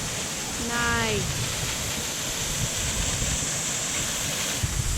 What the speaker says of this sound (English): Right, I am nearly at the waterfall.